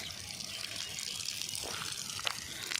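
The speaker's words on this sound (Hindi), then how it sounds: "पानी चालू से कर दीधुं।" Water from a hose running onto a vegetable garden, a faint, steady, hissing trickle and splash that continues throughout without any clear break.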